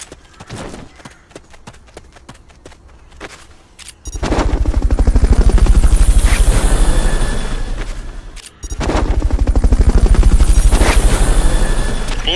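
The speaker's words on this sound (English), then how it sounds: "Fulton recovery subject confirmed onboard helicopter." A helicopter in the video game Metal Gear Solid Peace Walker: sparse clicks and taps give way to a loud, close rhythmic rotor chop that briefly cuts out, then resumes at full strength.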